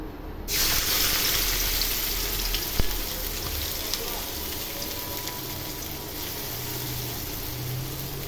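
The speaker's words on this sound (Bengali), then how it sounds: "তেল গরম হয়ে গেছে, এখন পেঁয়াজ কুচি দিয়ে দিব।" Chopped onions hit hot oil in a pan where catla fish is cooking, bursting into a loud, steady broadband sizzle that holds for several seconds with no talk.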